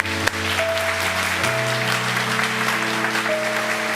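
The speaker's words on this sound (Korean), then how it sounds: "우리 성가대에게도 박수 한번" A church congregation claps for its choir during a Sunday service, a short burst of applause heard over sustained organ or keyboard tones.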